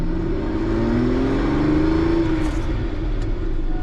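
A veteran Sherman tank with 9,200 miles pulls away after braking, its engine droning low and heavy while rising in pitch as it gathers speed, loud and close the whole time.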